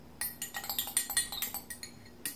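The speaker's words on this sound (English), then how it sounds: "I'm stirring this up until the sugar dissolves" A metal bar spoon stirs sugar and water in a glass for an Old Fashioned, giving quick, close, bright clinks against the glass in an uneven run of about a dozen taps, alone and fairly quiet.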